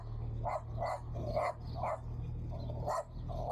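A dog barks in a beach neighbourhood of Tramandaí, with about eight sharp, evenly spaced barks over a steady low background hum. No one speaks.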